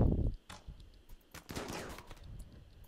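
Gunfire during a tribal ambush battle in the colony-simulation game Rimworld, a few quick faint pops and short bursts scattered over a soft background, no voices.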